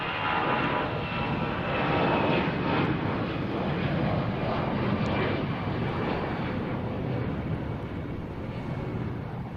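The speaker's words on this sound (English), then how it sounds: "A319 going to somewhere." An Airbus A319 jet airliner departs Boston Logan with a steady, loud engine roar that holds evenly throughout, broad and rushing with no pauses or voices.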